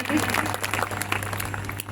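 A congregation at a Punjabi Christian testimony gathering claps together in a short, dense burst of applause that carries on for about two seconds, with voices mixed in.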